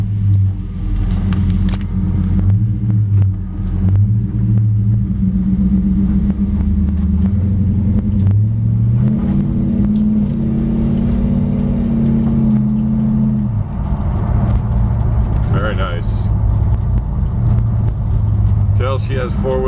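A 1957 Chevy 210 Bel Air with an LS-1 engine and four-wheel disc brakes drives down a street, its engine droning and rising through shifting revs close to the microphone, with a voice talking over it.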